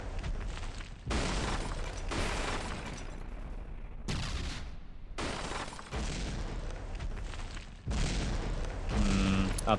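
Main cannon fire in the naval combat game From the Depths: several heavy booming blasts in irregular succession, each with a sustained rumbling tail, ending in a louder burst.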